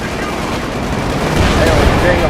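Sustained machine gun fire in Company of Heroes 2, a dense continuous rattle of rapid shots with battle noise, loud and steady throughout.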